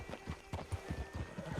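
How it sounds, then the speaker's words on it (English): Horse hooves clip-clopping at a steady walk in the video game Red Dead Redemption 2, close and fairly loud, with whinny-like snorts mixed in and no talk. "Just get on the horse when you're good and ready, okay?"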